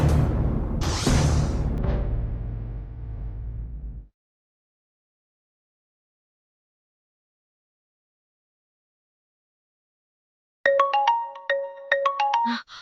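A melodic electronic phone ringtone chimes in after a long stretch of silence, its repeating tones sounding clear and fairly loud, preceded by a burst of dramatic music at the start.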